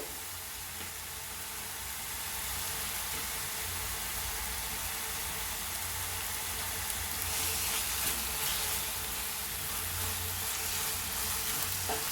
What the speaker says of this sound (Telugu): బాగా కలపాలండి రెండు నిమిషాలు అలా వేగనివ్వాలండి